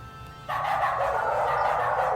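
Dogs in the video game WorldBox let out a sudden, loud burst of barking after a brief quiet start, continuing as a sustained, harsh yapping to the end.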